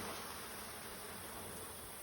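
Honey bees from a hive drone in a steady, faint buzz as frames are pulled out and shaken off during a honey harvest, with no talking.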